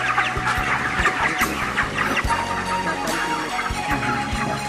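Broiler chickens on a Gunung Kidul farm cluck steadily while being weighed in a batch of five, a dense close chorus of overlapping clucks and calls with busy background noise and no talk.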